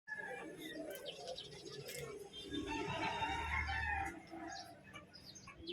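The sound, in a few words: roosters crowing at Malabon pet market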